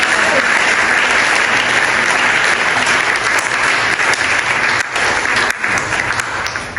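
Church congregation applauding loudly and steadily during a French-language prayer service, a dense continuous clapping that fills the space, with a voice faintly mixed in beneath it.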